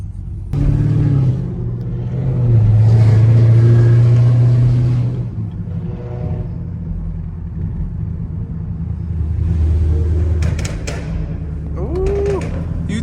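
A Chevrolet Camaro ZL1 engine revs and downshifts from the cabin, with swelling rumbling pulls and mechanical thumps between them, while people talk over it.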